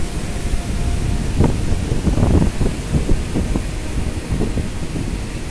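Released water rushes at a dam on the Brahmani river after heavy rain. A loud, continuous roaring wash with a deep rumbling undertone fills the whole stretch, with no voices over it.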